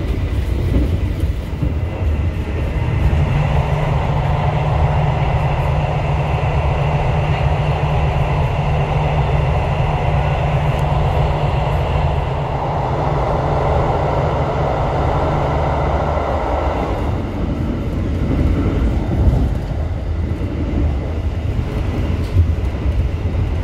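A KAI luxury passenger train rolls between Yogyakarta and Kroya, slowing as it prepares to enter Kroya station. Steady loud interior rumble with a low drone and rail noise runs throughout, easing slightly near the end, with no talking.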